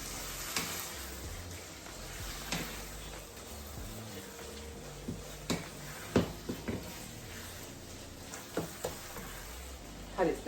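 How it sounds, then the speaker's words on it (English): Homemade sauce with a good dollop of ketchup bubbles and sizzles steadily in a pan, a soft continuous frying hiss punctuated by faint clicks and knocks of stirring, heard up close. "That's boiling away nicely."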